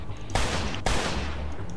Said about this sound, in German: da hat eine automatische Waffe